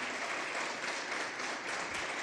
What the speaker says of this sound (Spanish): un aplauso para la patria cubana